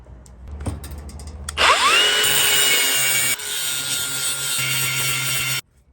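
Angle grinder grinding down the rivets on a socket tray rail, a loud sustained high-pitched whine that starts after a brief knock and runs several seconds before cutting off abruptly.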